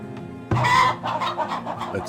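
Chickens in the village-building game Farthest Frontier, a quiet murmur followed by a sudden loud burst of clucking and a few softer clucks, close and clear.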